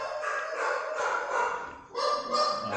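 Several dogs bark in the room, sounding in short bursts through the clip. The barks are close and fairly loud, with a brief lull before a second round of barking.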